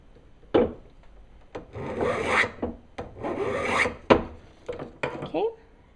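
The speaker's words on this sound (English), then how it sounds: "Good way to make sure they're uniform is to file them together." A file rasps back and forth in several long strokes over brass and sterling silver earring pieces filed together, scraping steadily and fairly close, with a few sharp taps between strokes.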